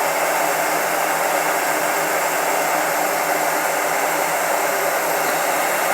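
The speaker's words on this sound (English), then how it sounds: "The heat gun just makes it faster." A steady, loud rush of hot air from a nearby electric heat gun runs without a break, hissy and constant throughout.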